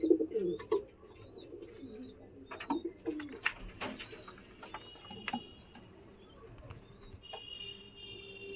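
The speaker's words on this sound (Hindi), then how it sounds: "एक कबूतर जो दिखाई दे रहा है आपको" Pigeons coo softly at a pigeon loft, with repeated low calls and scattered flutters and clicks amid light background bird chirps.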